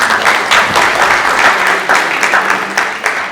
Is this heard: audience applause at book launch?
yes